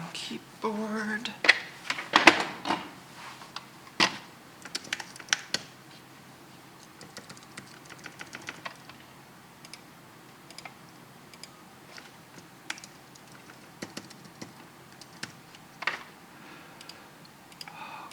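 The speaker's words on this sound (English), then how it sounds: "Keyboard." Keys clatter on a Mac computer keyboard in an irregular run of light clicks and taps, close and fairly quiet, with some brief talk near the start.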